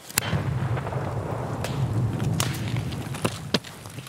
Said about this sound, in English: There's gonna be a grenade thrown there.